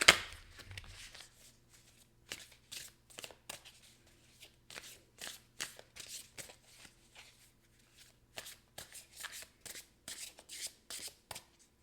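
Tarot cards from a Light Seer's deck being shuffled by hand in soft, rapid riffling bursts with short pauses between them, close and quiet with no talking.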